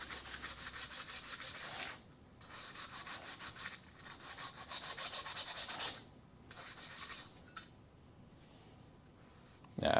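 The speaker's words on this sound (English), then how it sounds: "let me see if I can just use the wire brush. Get this off here." A wire brush scrubs contamination off the inner rocker panel of a Dodge Coronet crew cab under repair, giving bursts of harsh, gritty rasping with short pauses between strokes, close and fairly loud, with no talking.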